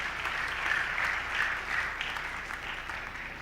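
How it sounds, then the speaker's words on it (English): A crowd gives student athletes another round of applause at a winter sports awards ceremony, a steady, moderately distant wash of clapping with no talk over it. "one more round of applause, please."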